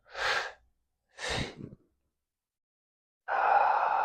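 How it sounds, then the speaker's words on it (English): Slow breathing during a seated relaxation and breathwork session: two soft breaths in the first couple of seconds, then a quiet pause, then a longer, steady, airy exhale near the microphone. "So I'm breathing in new energy for this day."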